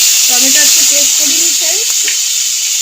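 Tomatoes going into hot oil with frying cumin seeds give a steady bright sizzle and hiss, loud and close throughout, with faint tonal clinks and stirring touches over it; no speech.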